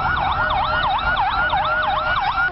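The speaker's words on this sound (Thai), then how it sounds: "หากได้ยินเสียงรถฉุกเฉินเปิดสัญญาณขอทางด้านหลังรถทุกคันต้องเบี่ยงออกผ่านด้านข้างเพื่อเปิดช่องฉุกเฉินให้รถพยาบาล" An emergency vehicle siren wails loudly and close by, sweeping up and down in a rapid repeating rise-and-fall pattern.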